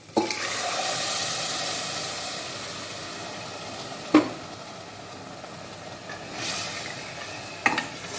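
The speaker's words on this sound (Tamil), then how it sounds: "இந்த சமயத்தில் வந்து நம்ம இந்த தண்ணியோடு இந்த கடலை இதில் போட்டுடலாம்" Chickpeas and water are poured into a hot pan of Kerala kadala curry, giving a soft continuous sizzle and wash with a few sharp clatters of a utensil against the pan.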